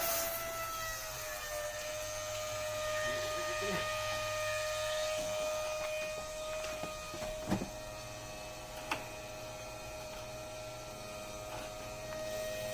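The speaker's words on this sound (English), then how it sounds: "This should be a self-priming pump." A self-priming pump runs steadily while flushing the heater core of a 2001 Chevrolet Silverado, making a continuous electric motor drone with a tonal whine. A couple of faint knocks break through the hum.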